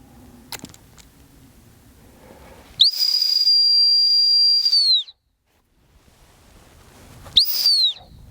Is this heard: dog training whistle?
yes